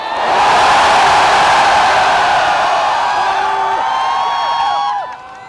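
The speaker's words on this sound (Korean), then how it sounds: "우리 안철수 후보께 고맙다는 함성을 보내주시겠습니까?" A large crowd at a Korean political rally roars and cheers loudly for candidate Ahn Cheol-soo. The sustained shouting and whooping holds for several seconds before fading off.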